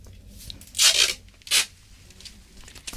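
Adhesive tape is torn off a roll while sealing the top of a matchbox: two sharp ripping bursts close to the microphone, the first longer and the second shorter, with quiet handling noise between them.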